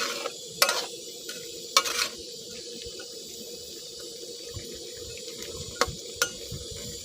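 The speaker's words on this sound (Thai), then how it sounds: "คนให้เข้ากันสักเล็กน้อยนะคะคนเบาๆค่ะ" Catfish curry with pea eggplants and water in a pot being stirred gently, soft liquid swishing under a low simmer with a few sharp utensil clicks against the pot.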